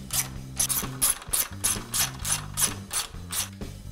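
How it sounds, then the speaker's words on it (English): A ratchet wrench clicks in quick repeated bursts while tightening two 10mm bolts on the radiator support of a 2011-2016 Ford 6.7L Powerstroke, close and crisp with a rhythmic pawl chatter. "Now we're going to reinstall the two 10mm bolts that hold the transmission cooler to the radiator support."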